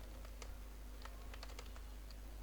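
Quick, irregular clicks of keys being typed on a computer keyboard, steady against a low constant hum, with no talking.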